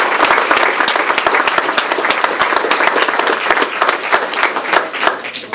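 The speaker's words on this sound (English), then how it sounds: "I'd like to thank them and give them a round of applause as well" Audience at a Kennedy Health Alliance event gives a sustained round of applause, dense clapping throughout, steady and fairly loud without voices.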